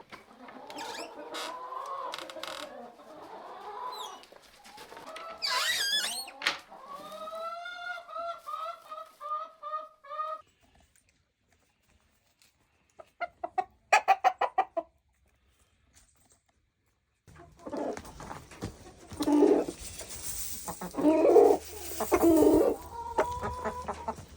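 Chickens cluck and squawk inside a farm chicken house: bursts of close, busy clucking and rising calls, broken by a couple of quiet gaps, with rustling and movement returning toward the end.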